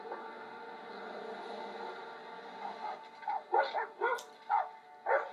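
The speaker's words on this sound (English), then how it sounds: "Oh, his dogs." Dogs barking in a short run of several sharp yips and barks toward the end, over a quiet tonal background.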